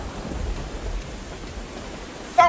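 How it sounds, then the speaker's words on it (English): Thunder rolls through a storm as a dull, continuous rumble mixed with rain-like hiss at moderate volume, and a brief bright tone cuts in near the end. "Thunder roars."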